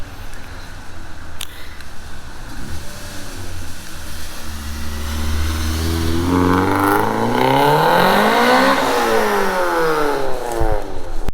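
A modified 2001 Honda CR-V with a swapped Integra B18C engine and five-speed manual, first idling with some clatter, then revving up and down in rising and falling sweeps, loud and close.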